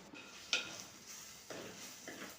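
Spice powders such as coriander, chilli and turmeric are stirred in a pan over low heat for a drumstick masala curry, giving soft scraping strokes with a brief clink and light sizzle underneath, close and quiet, with no talk.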